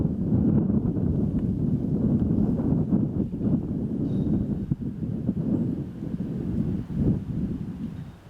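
Steady outdoor wind rushes and buffets the microphone on a disc golf course, a continuous low roar with gusty swells throughout and no voices.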